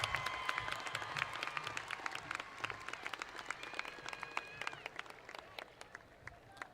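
A graduation crowd for Tift County High School applauds the graduates with steady dense clapping, a few louder claps and faint voices mixed in, heard from a distance in a large venue.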